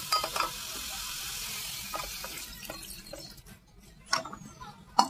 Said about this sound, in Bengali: এবার আমি এটা জল ঢেলে দেবো অল্প করে